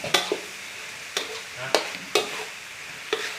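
Minced pork stir-fries dry in a pan for khua kling, with five or six sharp scraping strokes of a spatula spaced across a low, steady sizzle.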